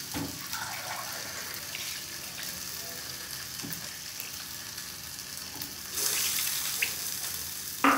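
Gravy liquid goes into a pan of frying potatoes and flat beans for katla fish curry, giving a steady close sizzle with a brighter rush of pouring and hissing after six seconds; no one speaks.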